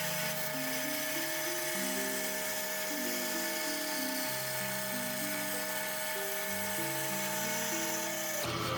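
A bandsaw runs continuously with a high steady whine and buzzing motor drone, close and constant throughout.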